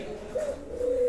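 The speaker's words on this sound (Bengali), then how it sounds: "এটাই হচ্ছে আমার খামারের নাম্বার 1 শান্ত ঘুঘু" A tame spotted dove held on a farm gives soft, low cooing notes, one short coo followed by a longer sustained one, heard close and alone against a quiet background.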